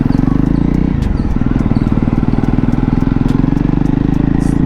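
A Jawa Perak BS6 motorcycle rumbles close and loud on a short ride, its engine pulsing in a fast, steady throb with little change in pitch.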